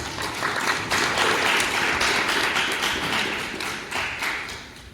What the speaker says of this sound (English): one more round of applause for Jesselito Pate, please